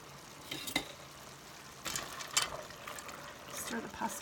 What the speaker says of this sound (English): Stir the pasta around a little bit.